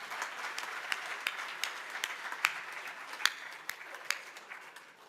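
Audience applause after a musical performance at an awards event, a steady wash of many hands clapping with a few sharper claps standing out, moderately loud and continuous throughout.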